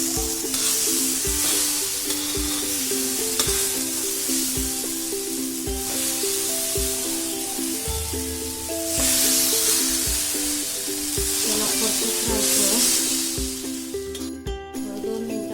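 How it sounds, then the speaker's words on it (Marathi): Ground soaked chana dal pithla roasts in a pan, giving a continuous loud sizzle and hiss with periodic stirring scrapes, while music plays underneath and no one speaks. "बघा छान भाजून घेऊया त्याला"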